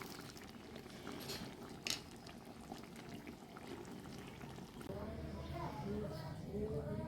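Mango chutney bubbling in a pot on the stove after sugar and spices are stirred in, quiet simmering with a small clink near the start and fuller bubbling toward the end.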